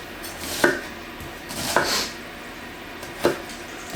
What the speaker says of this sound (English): You want to peel them, chop them in half,